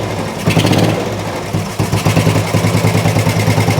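An old Royal Enfield 350 motorcycle engine, long unused and smoky, runs roughly with a loud, uneven, choppy putter close by.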